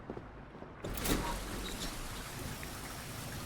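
Steady rain falls at night outside a small Japanese convenience store, a dense hiss that swells suddenly after a quiet moment and then holds a constant, fairly close wash.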